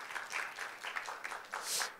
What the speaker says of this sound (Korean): 한번 우리 격려의 박수 한번 부탁드릴까요?